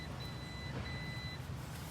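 A 2020 Volvo XC90 SUV gives two short high confirmation beeps as it locks, faint against steady low outdoor background rumble.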